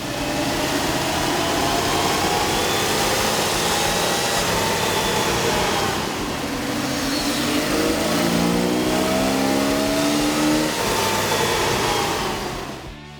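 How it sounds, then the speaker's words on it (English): A 1997 Jeep Wrangler 4.0L engine fitted with a K&N air intake runs on a dyno, a loud steady roar with rising and falling revs and whining harmonics that sweep up through the run, with no talk over it. "we ran the vehicle on the dyno to test the sound comparison versus the stock intake"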